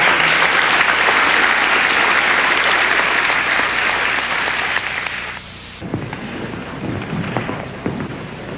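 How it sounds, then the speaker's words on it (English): At a high school awards ceremony, the audience gives a loud, dense round of applause for students with a 3.7 GPA, sustained for several seconds before it drops away and quieter room sounds and voices follow. "Round of applause, please, for the first round."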